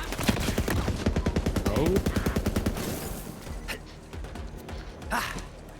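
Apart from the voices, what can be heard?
burst-fire gun shooting in a video game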